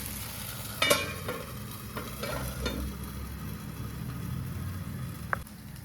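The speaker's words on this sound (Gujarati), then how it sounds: "હવે આપણે આને બીજી બાજુ પણ 2 મિનિટ સુધી કૂક થવા દઈશું" Moong dal pudla cooking in a little oil in a pan on its second side, giving a steady low sizzle and crackle with a few brief clinks near the start and one sharp tap near the end.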